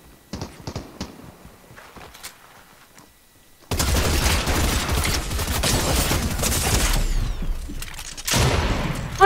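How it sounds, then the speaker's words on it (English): Rapid machine gun fire in the Fortnite video game, sporadic shots at first, then a long loud sustained burst of dense gunfire with a brief pause near the end. "I'm still on the gosh darn machine gun."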